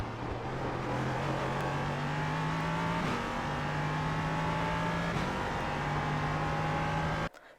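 A sim-racing LMP3 prototype race car at the Long Beach street circuit, its engine droning steadily at high revs near and loud, with two brief dips around downshifts and short gear changes before cutting off at the end.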